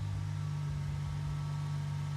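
A 2003 Ford Mustang engine runs loud and steady at close range after an exhaust manifold replacement, a deep constant drone with a strong low hum and no voices over it.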